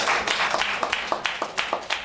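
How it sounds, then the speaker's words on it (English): Audience applause with a steady wash of clapping and a few sharper individual claps standing out, fairly close and continuous throughout. "Applause for that."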